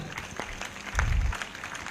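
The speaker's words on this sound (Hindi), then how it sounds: "यस, जोरदार ताली बजाकर" Applause from a church service congregation, a busy wash of clapping with scattered sharper claps and a brief rumble of crowd noise in the middle.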